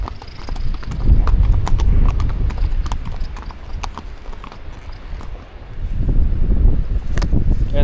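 Horses walk on a mountain trail at high altitude in the Caucasus, hooves clip-clopping steadily and close, with snorting and mouth noises among the steps and wind and rustling around them.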